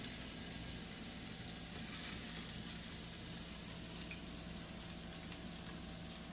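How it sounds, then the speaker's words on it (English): Meatballs sizzle steadily in a hot skillet, a dense, even frying crackle that holds at a constant level throughout with no voices. "Plop these right on that hot skillet."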